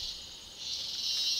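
A cicada calls outdoors with a steady, high, shrill buzzing drone that swells slightly louder toward the end, heard alone without voices.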